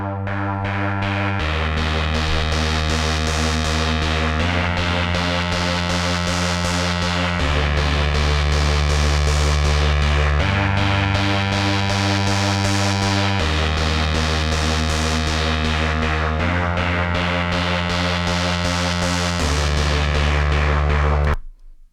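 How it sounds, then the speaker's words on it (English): Solo synth bass line from a minimal synth coldwave mix, a loud, distorted, buzzy tone stepping through sustained notes in a steady repeating pattern, with no other instruments or voices. "the bass sounds like this by itself"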